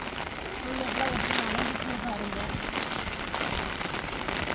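Steady rain pours down in a village, a broad continuous hiss that fills the background while a person talks over it.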